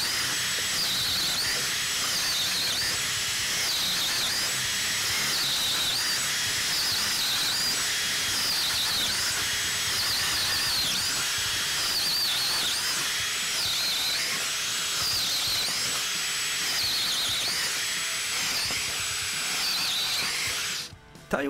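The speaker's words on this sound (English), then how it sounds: "It's a powerful, powerful little drill, really" A DeWalt Atomic cordless drill runs under load for a long stretch, giving a loud, steady high-pitched whine with a slight repeating waver, then stops abruptly at the end.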